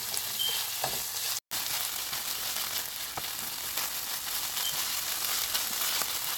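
Plenty of onions fry in a pot over a fire for curried rice, sending up a constant close sizzle with a few faint ticks and a single brief cutout, and no voices.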